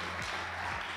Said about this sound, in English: give them a round of applause, come on